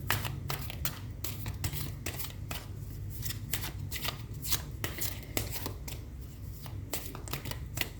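Tarot cards being handled, shuffled and drawn for a reading, heard as close, rapid papery flicks and riffles in irregular bursts, steady throughout with no voice over them.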